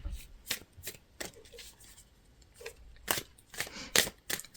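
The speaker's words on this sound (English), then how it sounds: "as I'm shuffling out these cards" Tarot cards being shuffled in a series of quick riffling bursts, close by and fairly quiet, with brief pauses between them and no talking.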